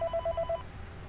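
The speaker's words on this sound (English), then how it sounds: "there is a phone call" A telephone rings in the Five Nights at Freddy's 3 video game, a short electronic trill of five quick even pulses, clear and fairly faint over a low background hum.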